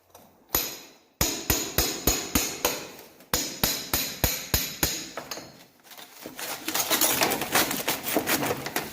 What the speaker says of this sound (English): I always carry a cold chisel and a hammer